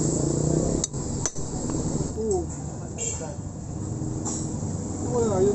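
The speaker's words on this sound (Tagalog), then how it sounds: "Pukpukin muna natin yung bolt na nawildingan." Sharp metallic hammer taps on a stripped bolt in a Yamaha N-MAX 155 cylinder head: a few spaced, close blows over steady background noise, with someone talking throughout.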